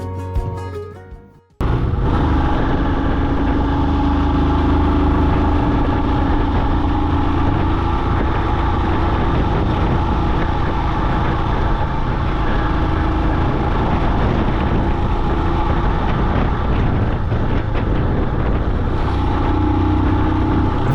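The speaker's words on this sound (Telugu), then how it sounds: "ఆ బైక్ థ్రాటిల్ వినటానికి ఎంత బాగుంటుందో" Motorbike engine with throttle on a Ladakh mountain road, a loud, steady drone that starts abruptly after a short lead-in and holds near-constant revs up close for the rest of the run, with no talking.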